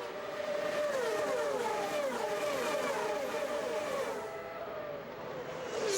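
IndyCar race cars scream past on the Toronto street circuit, high engine whines rising and falling in pitch as several cars go by in quick succession, heard faintly at a distance with no talk.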